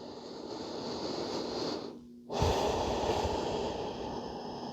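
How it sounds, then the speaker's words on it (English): Slow, deep breaths drawn and released during a yoga flow, a steady airy hush with a brief quiet gap between exhalation and the next inhale, close and continuous. "Breathing deeply."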